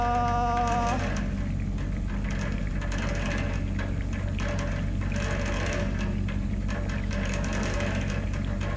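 Continuous mechanical rattling and clattering from a running refrigerator, steady and rhythmic with a low hum beneath.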